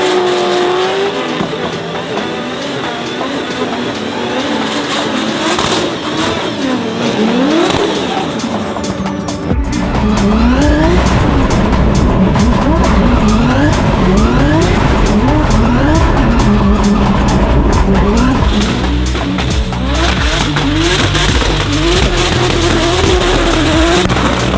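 Drift cars warming up on a wet track in Finland, engines revving hard with repeated rising and falling sweeps, tires squealing and skidding throughout, loud and continuous, getting busier after a brief shift.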